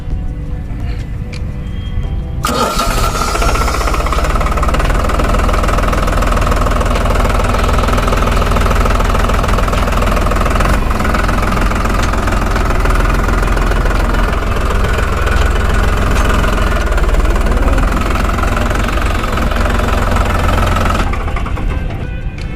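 A New Holland 3600 tractor engine runs steadily for the whole stretch, a loud, rumbling idle with a knocking, vibrating tone and no voices.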